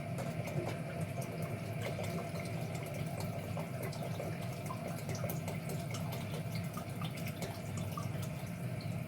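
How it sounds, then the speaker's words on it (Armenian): Cold water poured onto washed lentils in a pot for a winter soup, giving a steady, continuous rushing flow at moderate volume with no talk. "Ոսպի վրա ավելացնում եմ սովորական սառը ջուր։"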